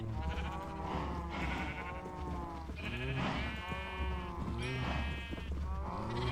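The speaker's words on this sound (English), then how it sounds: "I ended up with pink sheep instead of red sheep." Several sheep bleat loudly and repeatedly in a video game, overlapping wavering calls coming in bursts over a constant low background hum.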